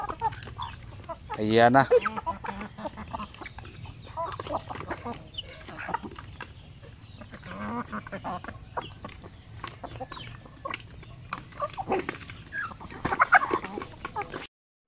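Native chickens clucking on a farm, several birds heard at close to mid distance with scattered clucks and calls over steady background noise, plus brief speech.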